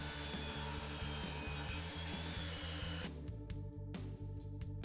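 A handsaw cuts the center section out of a wooden stop block during bathroom molding work, with close, rhythmic back-and-forth rasping strokes that lighten and grow sparser toward the end.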